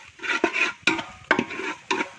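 Crab roast masala, just seasoned with pepper powder, is stirred in a pan with four distinct, evenly spaced scraping strokes over a light sizzle, heard up close with no talking.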